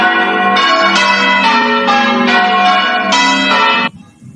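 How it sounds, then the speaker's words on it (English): Church bells ringing in a changing peal, loud and close, several bells struck in quick overlapping sequence before the ringing stops abruptly near the end. "coronation of Britain's King Charles III, a campaign is underway to recruit more people to ring the bells of the nation's churches in celebration."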